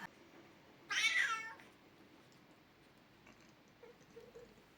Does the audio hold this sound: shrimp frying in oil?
no